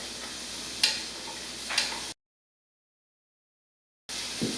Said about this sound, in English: I'm going to let these saute in this olive oil with all that pepperoni juice just for a couple minutes